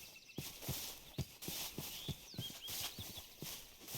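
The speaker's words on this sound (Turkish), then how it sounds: "Ha orada çeşitli atlar var." Horses walking in the Minecraft video game, a steady series of soft clip-clop hoof steps over a hissy ambient background, moderately close and fairly quiet.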